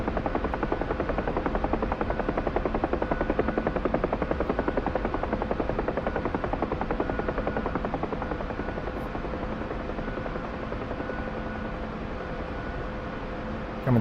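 Bell UH-1 Huey helicopter in flight, bleeding off airspeed from about 120 knots: a loud, steady rotor and turbine drone that holds constant throughout, with no voices.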